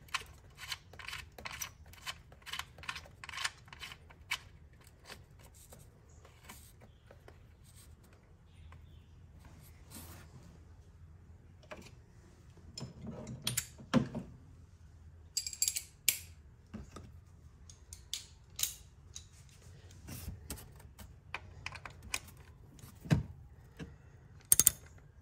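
A ratchet wrench driving a 10 mm bolt on an ignition coil of a third-generation Toyota Tacoma, bursts of quick clicking pawl ticks and metallic scrapes spaced out over a quiet workshop background.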